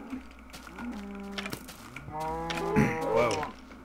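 Several Minecraft cows moo in overlapping low calls, with clicking and tapping from a keyboard underneath, the lowing swelling louder toward the end.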